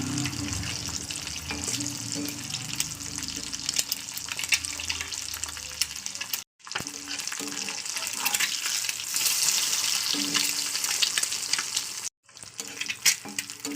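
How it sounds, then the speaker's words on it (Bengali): Steady, crackling sizzle of an egg frying in hot oil, close and continuous, with two brief silent gaps. "আর এবার একটা ডিম ভাজছি"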